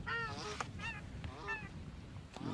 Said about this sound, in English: I'm sure you can hear the African shell ducks honking as they're flying over me